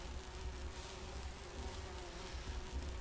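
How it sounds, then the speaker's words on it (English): Sea bees in the Grim Fandango Remastered video game give off a continuous insect-like buzzing drone, steady and fairly quiet, with no talking over it. "What are you, bees? Oh, they're the sea bees."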